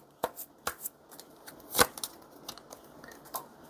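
Tarot cards are drawn from a deck as a few sharp, crisp card snaps and slides, with softer papery rustles between them, close and quiet with no talking.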